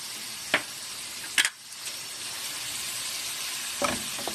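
Dried eggplant sautéing in a pan with a little added water, a soft steady sizzle broken by a few sharp utensil clinks, close and quiet, no speech.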